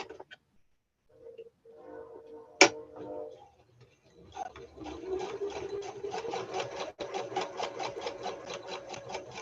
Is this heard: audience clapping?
no